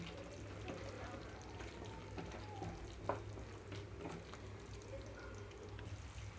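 Bottle gourd and curd curry simmers quietly in a pan on the stove, a faint, steady bubbling and soft sizzle with an occasional light clink, low and close throughout.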